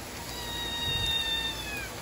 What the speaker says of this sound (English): The kitten's following me around like everywhere, but it's like, I don't know, still skittish of me.